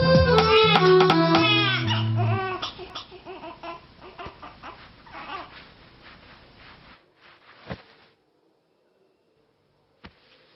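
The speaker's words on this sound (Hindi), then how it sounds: "बच्चा रो रहा है।" A baby in a Hindi-dubbed South Indian film wails loudly in strained, rising bursts for the first couple of seconds, then the crying and babble fade into quieter, scattered sounds before near silence.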